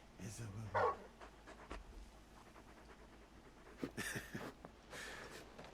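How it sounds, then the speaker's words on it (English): A big dog in Final Fantasy XVI whimpers and gives a few short barks and pants, intermittent and close, against a quiet game backdrop. "You're just a big puppy, aren't you? A very big puppy."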